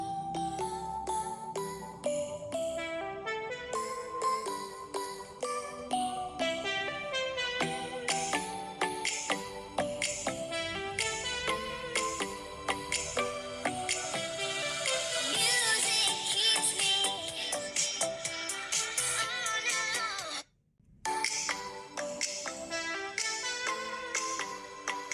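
Music with a full beat and melody plays continuously through the small speaker of a Nubia RedMagic 6 Pro phone, loud and steady, with a brief cut near the end.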